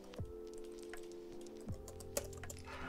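Short run of crisp keystrokes on a computer keyboard as a command is entered in a terminal, close and fairly quiet, with a few sharper taps standing out.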